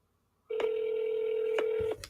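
A phone dials a call, giving one steady electronic tone that runs for about a second and a half, with soft clicks at the start and end.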